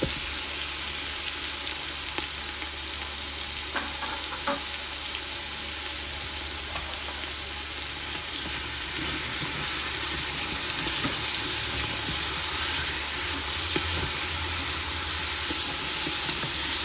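Chopped garlic, onion and tomato sautéing in a pan, a continuous loud sizzle and hiss with a few light stirring clicks early on, close and steady throughout.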